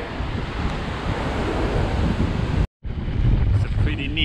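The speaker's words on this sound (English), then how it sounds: "Some good surfing waves here." Ocean surf rushes and crashes steadily on a beach in Sumatra with heavy wind buffeting the microphone, briefly cutting out before the roar of the waves resumes.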